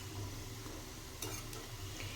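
Jamun dumplings frying in hot oil in a pan, a steady close sizzle with a couple of light stirring scrapes.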